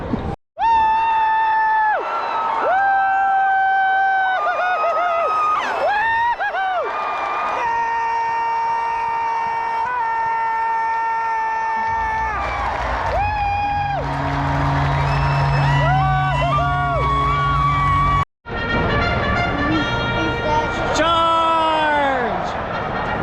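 A crowd at a Seattle Mariners baseball game cheers as the home team takes a 3-2 lead, with loud sustained shouts, high whoops and screams from voices close by, dipping briefly before swelling up again.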